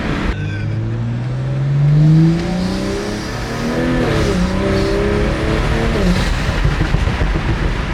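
Toyota Supra engine revving and accelerating hard with all windows down, a loud rising engine note that climbs, drops and pulls again with steady road and wind roar.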